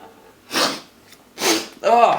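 Two quick, breathy nasal sniffs, close and fairly loud, during capacitor replacement on an Apple Macintosh LC 475, followed by a short voiced exclamation.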